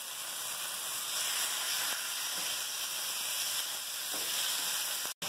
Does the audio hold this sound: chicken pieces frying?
yes